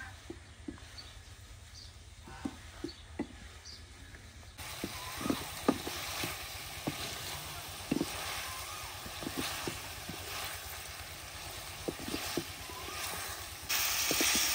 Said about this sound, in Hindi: अभी लहसुन के साथ चिकन की अच्छी तरह भुनाई करेंगे।